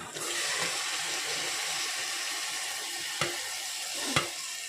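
Marinated chicken fries in a hot pan for mutton-curry-style cooking, giving a steady loud sizzle with a couple of sharp knocks from stirring near the end.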